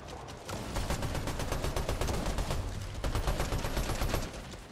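Dense, sustained video-game gunfire, a rapid automatic clatter of shots fired nonstop and loud for several seconds with no talking.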